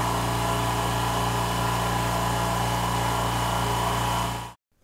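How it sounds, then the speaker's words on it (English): A California Air Tools air compressor runs steadily and loud with a constant hum and layered motor tones, then cuts off abruptly near the end. "Now let's test California Air Tools compressor."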